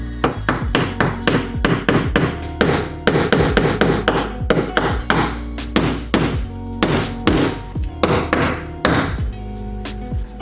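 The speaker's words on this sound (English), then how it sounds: "I'm going to just gently hammer it in" Rivet centerpieces get hammered into BMW mud flaps, a rapid series of sharp, loud hammer strikes in uneven bursts with brief pauses, close up and without talk.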